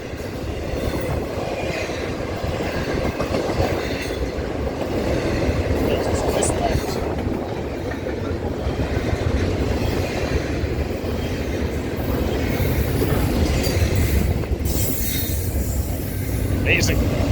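A long freight train led by NS, CSX, CN and Amtrak locomotives rolls steadily past at close range, wheels rumbling and clattering continuously with faint squeals, while people talk faintly.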